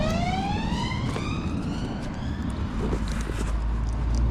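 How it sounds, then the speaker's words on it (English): A wailing emergency siren from a car-based ambulance sweeps downward in pitch as it passes on a windy street in Ireland, loud and steady over traffic rumble and wind noise. "I thought it was a police car, to be fair, but it's one of those car ambulances"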